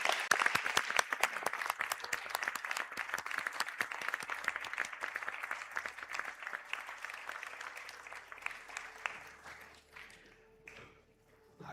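A round of applause for graduates at a conferring ceremony in Sligo, many hands clapping steadily and moderately near, gradually thinning and fading out toward the end.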